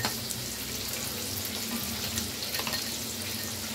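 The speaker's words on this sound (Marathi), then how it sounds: "आता आपण त्याच्यामध्ये कांदा टाकून देऊया।" Onion frying in hot oil with whole spices, a dense close crackling sizzle that holds steady with light stirring, no voices.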